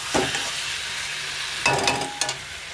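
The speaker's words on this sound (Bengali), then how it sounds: "মশলা দিয়ে দিচ্ছি, এবার কষাবো" Potato, onion and pointed gourd sauté with spices in a hot pan, a steady low sizzle broken by a few louder scraping stirs near the end, with no voices.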